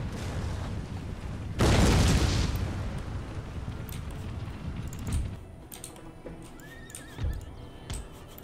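Mortar fire on a battlefield in the strategy game Empire: Total War lands as a loud, broad boom about a second and a half in, followed by lingering rumble and a few fainter thuds and horse sounds.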